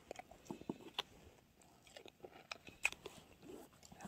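Crisp crunching bites of cold, soy-flavoured fried food, close and quiet, with irregular chewing crackles and a few sharper snaps spread across the moment.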